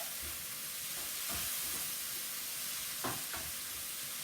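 Vegetables cooking in a pan sizzle steadily up close while a spoon stirs them, sending out a few sharper scraping strokes, and nobody speaks.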